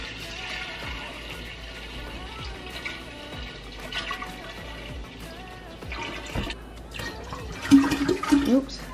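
A gallon of holiday punch pours into a glass drink dispenser, a steady watery splash and trickle running throughout, swelling near the end, with a person talking over it.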